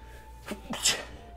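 A single sneeze bursts out, close and sharp, in a quiet room.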